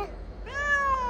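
A formerly feral cat gives a single short meow, close and clear against a quiet room background.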